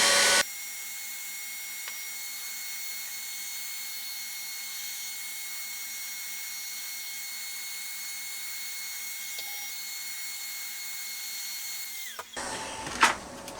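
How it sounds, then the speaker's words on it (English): An industrial strength Paladin heat gun runs steadily on a model engine, producing a continuous even whine and airy hiss for most of the clip before it cuts off, followed by brief handling noise. "now we're just going to very lightly use my industrial strength Paladin heat gun here."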